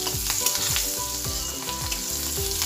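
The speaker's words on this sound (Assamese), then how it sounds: "প্ৰথমতে দিলোঁ তেজপাত, শুকান জলকীয়া আৰু কেঁচা জলকীয়া।" Bay leaf with dried and green chillies fry in hot oil for an Assamese fish curry, a continuous close sizzle with light stirring scrapes, under faint background music.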